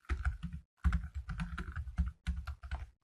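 Close, quiet typing on a computer keyboard comes in quick bursts of keystrokes separated by short pauses.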